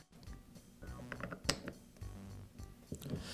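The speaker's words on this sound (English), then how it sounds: "Now reinstall the intermediate gear." Intermediate gear being fitted back into a DeWALT shear, brief close metallic clicks and small knocks with one sharper clack midway, quiet overall.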